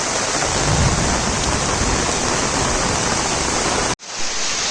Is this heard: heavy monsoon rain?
yes